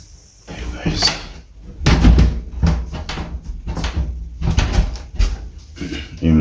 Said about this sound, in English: sometimes when the rain fall guys, the door tends to stick